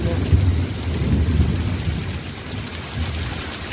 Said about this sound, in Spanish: disfrutamos también de la lluvia